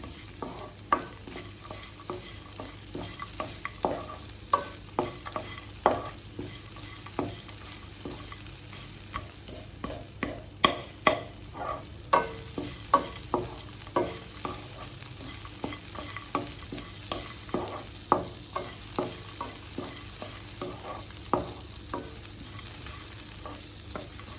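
Grated coconut for coconut rice is stirred in a hot pan, a soft continuous sizzle with a steady run of spoon scrapes and taps against the pan, close and fairly quiet, with no talking.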